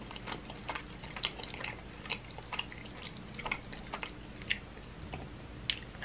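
Someone chews spicy cheesy rice cakes close to the mic, with soft irregular wet clicks and smacks over quiet background hiss.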